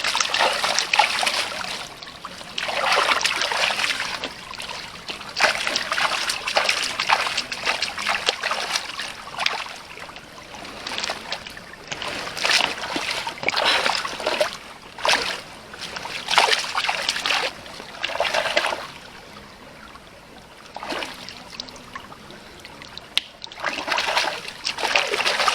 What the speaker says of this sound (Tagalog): Hugasan lang natin para matanggal na po yung lupa na nakadikit.